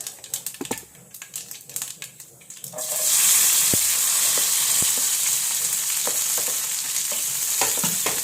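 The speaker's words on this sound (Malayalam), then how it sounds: "കടുക് വറുക്കുക" Mustard seeds fry in hot oil for a home-cooked lunch curry: after a few seconds of faint tapping and clatter, a loud, steady, dense crackling sizzle takes over and holds to the end, with occasional pops.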